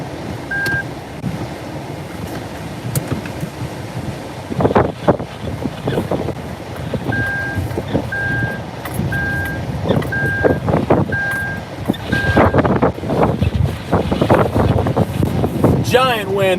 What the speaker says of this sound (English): Giant wind here.